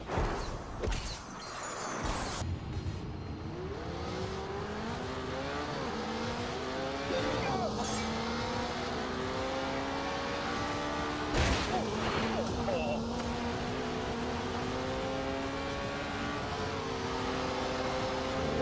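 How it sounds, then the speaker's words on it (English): Cars drag race on electric motors alone in The Grand Tour video game, a continuous rising whine stepping up repeatedly through gear-like climbs, with a few sharp knocks, while someone talks over it. "So now we've gone into a drag race. But only using the electric motors."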